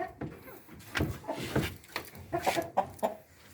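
Young breeder chickens on a farm cluck nearby in short, irregular bursts. Several soft calls overlap at close range.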